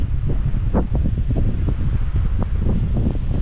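Steady wind blows across an open beach on Kodiak Island, Alaska, a constant loud rushing roar with buffeting gusts striking the microphone and no voices.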